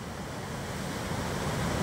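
Floodwater from the overflowing Musi river beside the MGBS metro station at Chadarghat, Hyderabad, surges in a continuous broad rush of waves, steady and fairly loud, with some wind noise and no talk.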